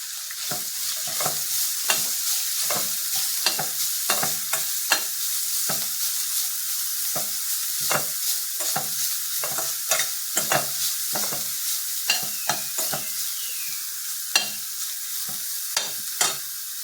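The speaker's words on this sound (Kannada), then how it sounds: "ಬಾಳೆಕುಂಡಿಗೆ ತುರಿಯನ್ನು ಸ್ವಲ್ಪ ಎಣ್ಣೆಯಲ್ಲಿ ಹಾಕಿ ಇದನ್ನು ಹುರಿದುಕೊಳ್ಳಬೇಕು" Grated banana flower fries in a little oil with a constant bright sizzle, broken by frequent rhythmic scrapes and taps of a spoon stirring it in the pan.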